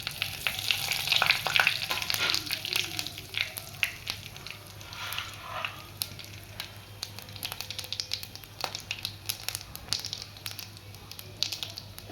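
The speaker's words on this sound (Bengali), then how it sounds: "আমি এই মাছের তেলটার মধ্যে গোটা গরম মশলাগুলো ফোড়ন দিয়ে দিলাম" Whole garam masala, cumin, bay leaf and dried red chilies tempering in hot oil left from frying fish, a loud busy sizzle with dense crackles and pops, easing to a steadier fizz with spatula scrapes.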